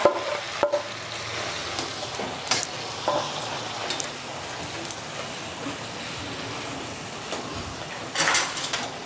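Mashed potato mixed with dabeli masala is stirred in hot oil, giving a soft continuous sizzle with occasional spatula scrapes and taps against the pan, with no talking.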